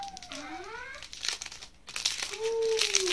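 Plastic packaging around Faberlic aroma diffuser sticks crinkles and rustles as it is torn open close by, in short bursts of crackling with a brief pause between them.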